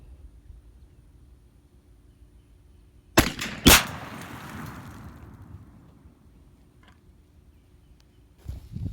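Two sharp, loud shots from a 28 gauge shotgun firing hand-loaded 7/8 oz bismuth No. 5 shot through a modified choke at an outdoor patterning range, each blast followed by a fading echo over light wind.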